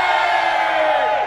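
A live audience at an open-stage improv comedy show cheering loudly, a dense crowd roar of whoops and yells sustained throughout.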